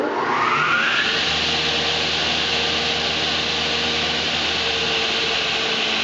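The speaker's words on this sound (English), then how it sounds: "once you rev your saw blade up" An OGAM PO-220 dip chain gang rip saw with a 2-speed motor spins its blade up, a loud steady whine rising in pitch over the first second and then holding a constant high roar with no talk.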